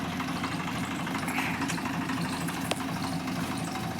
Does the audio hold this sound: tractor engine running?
yes